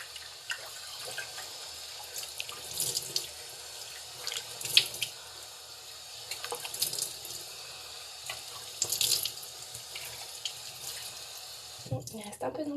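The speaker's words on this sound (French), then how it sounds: "Je repasse un petit coup d'eau sur le visage" Water running from a tap and splashing as a face is rinsed of cleanser at a sink, intermittent splashes over steady flow, close and moderately soft.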